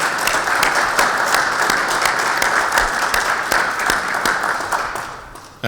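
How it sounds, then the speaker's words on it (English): Audience applause at a university event welcoming a new athletic director, a dense, sustained clapping from a large crowd that holds steady and then fades slightly before cutting off. "Please give Dave Remington a big round of applause."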